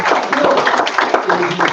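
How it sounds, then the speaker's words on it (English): Brief scattered clapping from attendees at a school board of education meeting, a short round of applause mixed with talking nearby. "And maybe a little round of applause is deserved with that."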